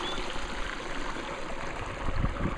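Water rushes steadily at a water wheel site, where streams come in from both the right and left sides, making a continuous close, broadband babbling flow with no voices.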